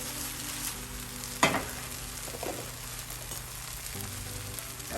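Plant-based Just Egg fries in a pan, giving a steady close sizzle with bubbling. A single sharp clank of a utensil or pan sounds partway through, and no one speaks.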